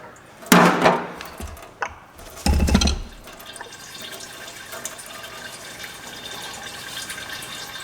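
Transmission fluid draining from a Buick LeSabre's 440-T4/4T60 automatic transmission during a filter and oil change, with two splashy gushes into a drain pan followed by a steady, faint trickle and drips.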